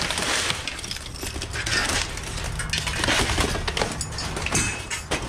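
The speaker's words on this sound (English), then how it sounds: "There's just broken glass everywhere." Broken glass and scrap clink, crunch and rattle continuously underfoot in a dumpster full of debris and pipe, a dense, close, busy scraping clatter with no speech.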